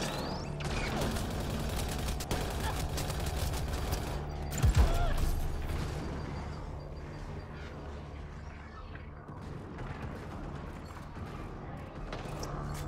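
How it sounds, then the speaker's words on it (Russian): A grenade blast in the sci-fi shooter Mass Effect: Andromeda, a brief loud burst midway through dense, continuous combat noise with gunfire and clatter around it. "Граната!"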